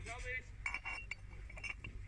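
Glassware clinks and taps as pieces, including green glass and a decanter, are handled and set down at a German flea market, with a few light, scattered knocks amid background chatter.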